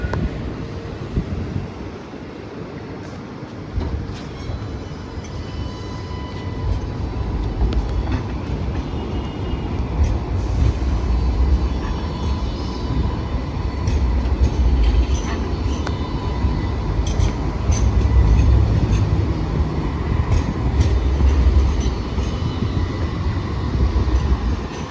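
A tram stopped at Haymarket with another tram held behind it, giving a low rumbling hum with wind buffeting and faint metallic clicks, and a build in loudness toward the end.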